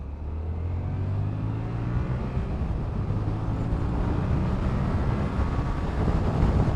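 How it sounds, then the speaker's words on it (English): A Yamaha MT-07 motorcycle accelerates from about 2000 RPM, its engine drone rising steadily in pitch under heavy wind rush from riding, continuous and close for several seconds. "Get a bit of space here, so hopefully I can accelerate a bit more."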